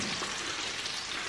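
Food sizzles and fries on a camping barbecue, a constant crackling hiss heard close up and alone for just over a second.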